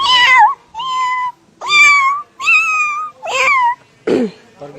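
A person imitates a cat meowing with six drawn-out, wavering meows separated by short pauses, close and clear with no other sound.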